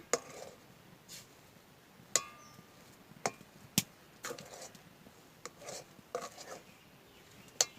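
Semolina dough being stirred in a pan for sitabhog sweets, heard as sharp, scattered scrapes and clinks of a spatula against the pan, fairly close, with quiet gaps between strokes.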